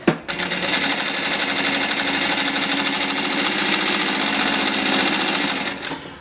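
An AtlasUSA AT8 B cylinder-bed industrial sewing machine stitching close to a fabric edge, a loud, close, rapid steady chatter of needle strokes running for about five seconds before stopping abruptly.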